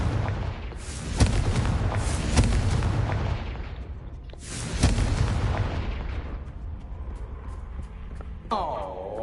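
Confringo blast spells booming in a Harry Potter video game, several heavy explosive bursts with rumbling tails, then a quieter stretch ending in a brief magical shimmer, no voices.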